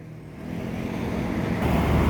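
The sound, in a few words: double decker bus with Avante D2 body passing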